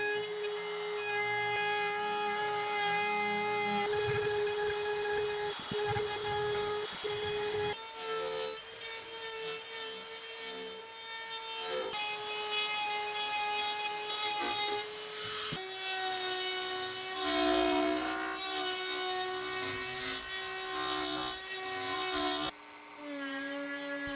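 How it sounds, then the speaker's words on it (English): Router cutting away wood around carved letters on a large business sign, a continuous high-pitched whine with shifting tone as passes change, loud and close with brief pauses between runs and no talk. "I started with the router just to remove as much material as I could"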